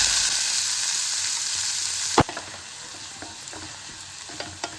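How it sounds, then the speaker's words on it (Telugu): A steady hiss of oil frying seasoning seeds for bitter gourd masala curry, fading slightly after a sharp clatter midway, with a few small pops and ticks afterward. "పోపు గింజలు వేసుకుంటున్నాను."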